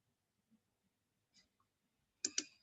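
A computer mouse gives a quick double click, two crisp taps close together near the end, after a few faint soft clicks in an otherwise quiet room.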